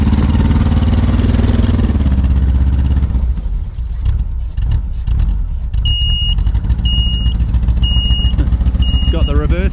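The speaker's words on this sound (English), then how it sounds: "It's got the reversing alarm." Repeated high-pitched reversing beeps from a Volkswagen snowcat sound over its loud idling engine rumble, four or five evenly spaced tones, with some talk in the background.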